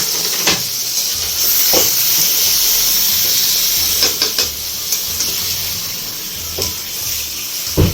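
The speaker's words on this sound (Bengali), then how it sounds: "আলু ভাজার সেই তেলেতেই আমি মাংসটা এবার ফ্রাই করতে বসিয়ে দেবো।" Marinated chicken frying in smoking-hot oil previously used for frying potatoes, a steady loud sizzle and hiss throughout with occasional sharp crackles and spatters as pieces settle, no voices.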